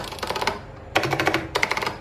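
Keys with lubed Alps stabilizers on a KBParadise V60 Fukka Alps keyboard are pressed in three quick bursts of rapid, close clacking, each burst a rattling run of keystrokes separated by brief gaps.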